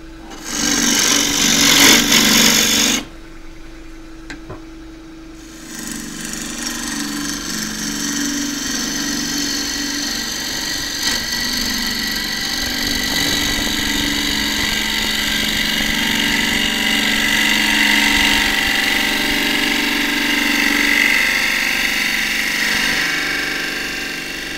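A wood lathe turns a wavy casuarina bowl while a 3/8 bowl gouge cuts steadily into the spinning wood. A loud burst opens, then a sustained whirring, scraping cut runs on without a break and with no voices.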